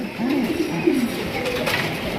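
Pigeons cooing close by, a few soft throaty coos in a row over steady background noise.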